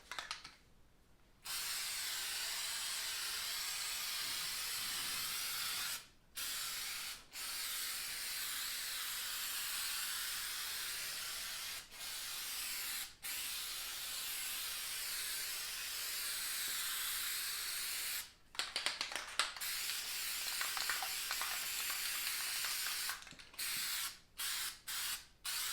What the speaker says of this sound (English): I am going to spray the vehicle now with this fast wax